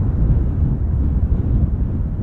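Strong wind buffeting an outdoor microphone at Amsterdam Schiphol Airport, a continuous low rumbling roar with no other clear sounds.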